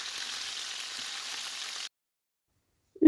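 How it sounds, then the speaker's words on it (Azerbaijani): Fish frying in hot oil in a pan, a steady crackling sizzle for nearly two seconds that cuts off abruptly into silence, then a brief faint knock at the end. "Əvvəlcə bir üzün azacıq qızardıram. Digər üzü də azacıq qızardıqda balığı yağın içərisindən götürüb qazana düzəcəm."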